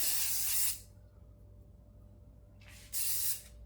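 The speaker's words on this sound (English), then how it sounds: "give that a spray" Two short bursts of aerosol spray hiss loudly, separated by a quiet pause with a faint steady hum underneath.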